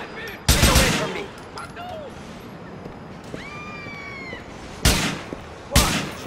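Gunfire in Grand Theft Auto 4, with several loud, sharp shots spread out in bursts, mixed with in-game voices and other game effects.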